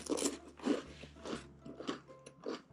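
Crispy salted pastry from a Korean convenience store being bitten and chewed up close, with a quick series of crunchy bites and crackles that soften into chewing.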